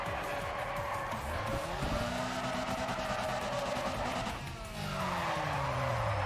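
A car drifts under handbrake in the racing game Need for Speed ProStreet, its engine droning loudly while tires squeal and skid continuously, with a brief dip in the middle before the screech resumes.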